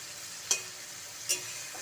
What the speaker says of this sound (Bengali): ফোড়নের সাথে ডাঁটা ভালোভাবে মিশিয়ে নিয়েছি